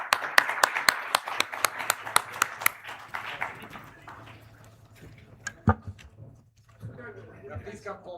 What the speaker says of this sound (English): can we have a huge, huge round of applause for our moderator and all the speakers that we had today